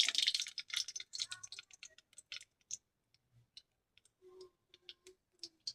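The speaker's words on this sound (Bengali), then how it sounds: "সর্ষেটা ফুটে যাক। সর্ষে ফুটে গেছে বন্ধুরা" Mustard seeds spluttering in hot oil crackle in a burst of sharp pops, dense and close at first, then thinning into sparse scattered snaps.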